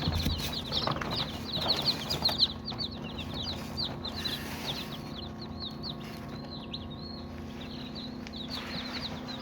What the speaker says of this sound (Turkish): On yedi tane civciv var burada.